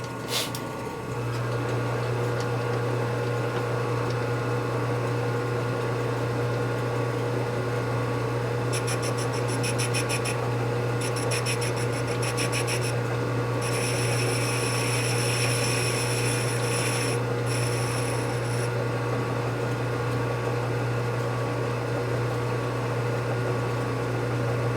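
A metal lathe hums steadily with a low motor drone while trimming a bored part for a big-bore Harley shovelhead stroker motor, and bursts of high-pitched cutting chatter come and go through the middle of the run.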